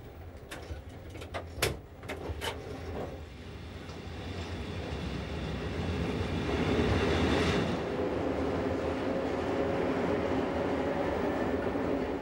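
An Emmental Railway train in Switzerland pulls out of a station, rumbling and gradually building in steady rolling noise, with a few sharp clanks early on and faint birds in the background.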